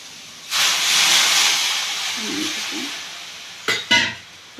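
Plantain pieces cook in a pan of water on the stove, with a loud steady hiss of steam and bubbling that runs for several seconds, then two short clanks near the end.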